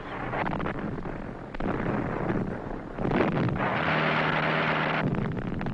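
Rumbling bomb blasts from 1930s wartime China, heavy low booms rolling one into the next, with a long sustained roar building after the midpoint and no voices over it.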